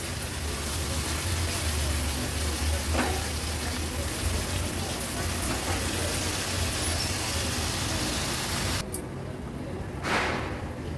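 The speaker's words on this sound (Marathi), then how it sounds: "ह्या पेस्टमध्ये एक ते दीड मिनिटासाठी तरी व्यवस्थित असं परतून परतून आपल्याला घ्यायचं आहे" Yogurt and green paste sautéing for Irani-style green mutton kheema give a dense, continuous sizzle and hiss, loud and close, with a brief dip near the end.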